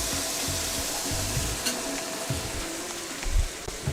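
Meat sears in a hot pan for Korean BBQ bibimbap, a steady broadband sizzle with a few low thumps and scrapes, close and continuous with no talking.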